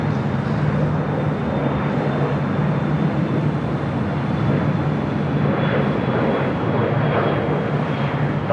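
A Boeing 747 airliner taxiing at LAX gives a loud, continuous jet engine roar with a steady low drone and a faint high whine, unbroken and close.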